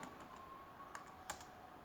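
A few faint keystrokes on a computer keyboard while Python code is typed, two or three soft clicks over a low background hum with no talking.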